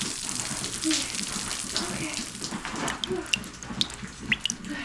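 Water from a greenhouse tap splashes and hisses steadily, with scattered drips and spatters over a constant broadband rush, fairly close.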